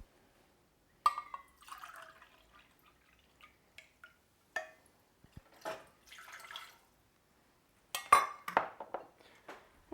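Water is poured from a cup into a pot while cooking Pad Thai, heard as sparse splashes and clinks of the vessel against the pot, with short bursts separated by quiet gaps.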